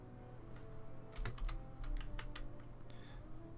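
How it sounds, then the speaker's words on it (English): Computer keyboard keys tapped while playing The Sims 2: quiet, scattered clicks in small irregular clusters over a soft steady background hum, growing busier toward the middle. "you're gonna hear a lot of probably keyboard tapping maybe"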